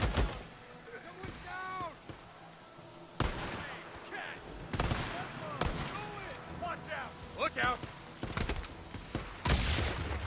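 Scattered gunshots and a loud explosion in the video game Days Gone, with sharp cracks and bursts spread across the stretch while someone talks and exclaims in between.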